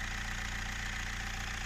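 Diesel engine with four injectors, running after its leaking injector seats were repaired, idling with a steady, even, rhythmic knock, close and constant through the short stretch.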